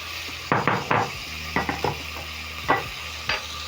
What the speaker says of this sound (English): And then I'm going to stir in together with the onions.